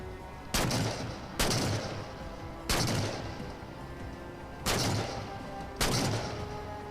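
Five heavy gunshots ring out in Halo 4 at roughly one-second intervals, each a sharp loud blast with a lingering rumbling tail, and no speech.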